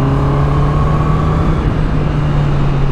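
A 2025 Honda CBR650R E-Clutch motorcycle being downshifted on the hill road at Bukit Baru, Balik Pulau, its engine a loud, steady, close-up drone with a strong low hum that holds through the whole stretch under rushing road noise.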